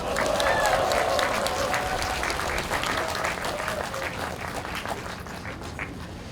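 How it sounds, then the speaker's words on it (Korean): A rally audience at a launch event demanding the president's resignation claps loudly and continuously, a dense wash of applause that tapers slightly toward the end. "박수 한번 쳐주십시오."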